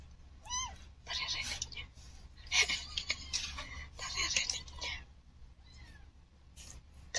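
A Siamese cat meows several times with rising, wavering cries, mixed with soft rustling and low background hum, while people talk quietly nearby.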